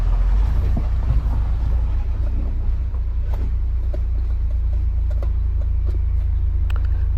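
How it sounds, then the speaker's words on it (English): A car with a repaired clutch idles and runs while the gears are shifted, a steady low engine rumble dominating throughout with faint clicks and clunks of shifting on top, no talk. "Just testing there to make sure I can cycle through all the gears without grinding"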